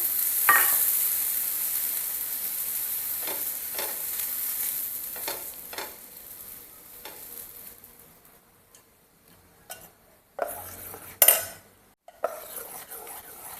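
Dosa batter made from a soaked premix hisses on a hot pan with a steady sizzle that slowly fades, broken by sharp clinks and scrapes of utensils toward the end, with no talking.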